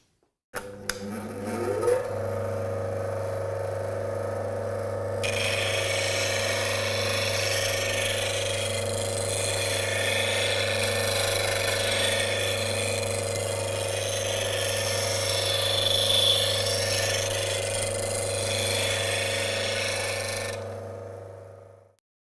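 A bench grinding wheel hums steadily while a Glenn Lucas signature woodturning tool is sharpened against it. A rough, hissing grind rides over the drone for most of the run before the motor winds down.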